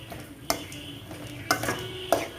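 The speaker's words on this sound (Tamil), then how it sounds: "இப்போ இதையும் சேர்த்து நம்ம கொஞ்சம் நல்லா வதக்கிடலாம்" Mint leaves and green chillies being sautéed in a pan, with a steady low sizzle beneath three sharp spoon-against-pan scrapes and clinks spaced about a second apart, close and clear, with no talking.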